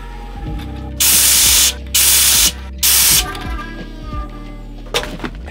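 CO2 gas sprayed from a bottle while brewing an extract beer, three loud hissing bursts of about a second each, separated by short pauses, followed by quieter clicks and handling noises.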